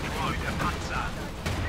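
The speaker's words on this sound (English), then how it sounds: "Anti-tank strafe there." A Company of Heroes 2 anti-tank strafe plays out as a dense rumble of gunfire and explosions in a 1v1 match, steady and loud throughout the short stretch.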